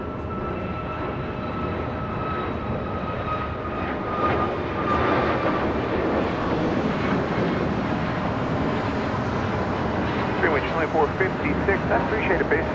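A Cayman Airways airliner rolls down the runway at LAX, its engines a loud, steady broadband roar that swells and grows rougher toward the end, with no break in the noise.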